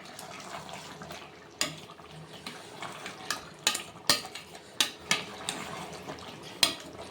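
A spoon stirs coconut, poppy seed and cashew paste into a country chicken curry in a pot, giving a series of soft scrapes and sharper clinks against the vessel, close and irregular with no talk.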